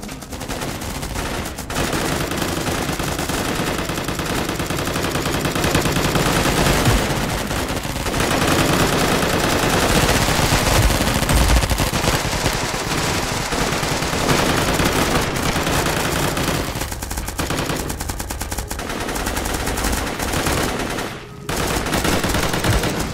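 Loud, sustained automatic gunfire from the video game Squad, with dense machine-gun bursts and rattling volleys running almost without a break.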